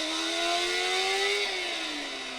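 A car engine in a racing video game revs steadily with a thin, synthetic whine, rising slightly then dropping off, moderately quiet and alone.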